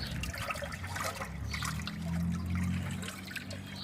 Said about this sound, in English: Kicking out a little water out of the exhaust there, or the overflow